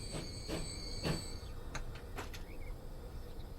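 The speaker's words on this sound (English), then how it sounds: "in comes our little train" A train pulls into a station in Transport Fever 2, with faint squeals and hums from the wagons and a few brief clanks and chirps over a low rolling rumble.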